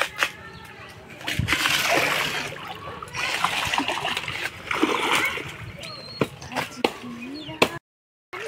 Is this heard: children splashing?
yes